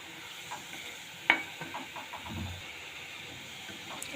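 Potato pitha fries in a pan with a faint steady sizzle and hiss, broken by a sharp utensil clink and a few soft stirring scrapes, quiet and close, with no talk.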